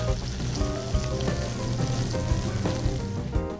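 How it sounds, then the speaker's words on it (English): Fish sizzling in a hot pan next to spoonfuls of gazpacho, a dense continuous frying crackle heard close up, with no talk over it. "I'm going to add my fish."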